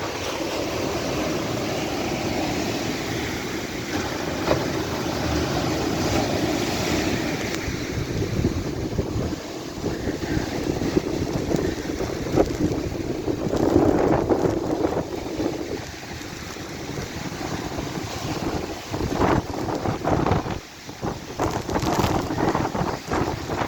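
Strong typhoon wind roars continuously with growing sea waves surging toward the shore beneath, with rain, a loud sustained outdoor rush with gusts and microphone buffeting throughout, in the Philippines.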